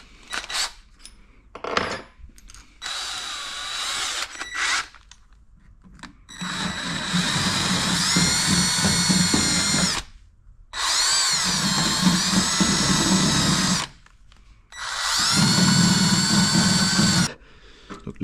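A power tool whirs against a screw thread on a Toyota GT86, starting with short clicks and taps, then three long, steady, loud whining runs separated by brief pauses.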